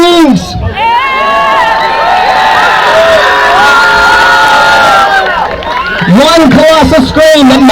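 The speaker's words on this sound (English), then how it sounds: "we need everybody here in Canada to be brave enough to release their own screams in unison" A large crowd at an outdoor children's rights march screams together in one loud, sustained roar that swells and holds for several seconds, with scattered cheers and whoops rising at the end.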